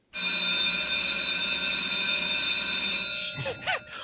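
A school bell rings loudly and steadily for about three seconds with a bright metallic tone, then cuts off, leaving brief faint sounds behind.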